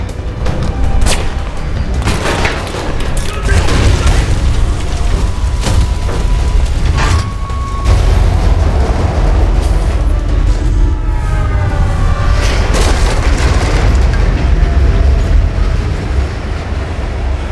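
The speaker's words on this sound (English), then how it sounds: "Think you can dodge a train?" A train rushes past in the video game Alpha Protocol, a loud, continuous roaring rumble with rattling, clattering mechanical detail and squealing metallic tones, sustained and close, with no talking.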